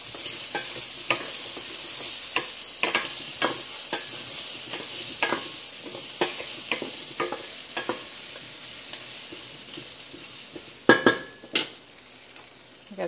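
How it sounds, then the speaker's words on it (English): Potatoes sizzle in a skillet as a spatula stirs them, giving repeated scraping clicks against the pan over a steady frying hiss, with a louder clatter toward the end and no talking. "I just returned the potatoes to the skillet. Now I'm going to season them. Okay, give it a little stir."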